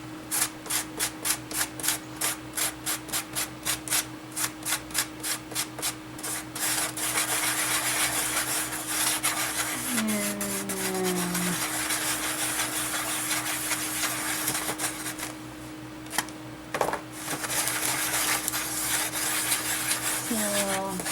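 Several DecoArt craft paints, including blue, are stirred together in a container, first as quick rhythmic scraping strokes and then as a more continuous rubbing swirl, with a faint hum underneath.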